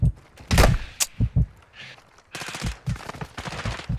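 Sniper gunfire in the Call of Duty video game: several sharp, loud shots ring out in quick succession, then a denser burst of rapid fire with footsteps and thuds in between, and no talking.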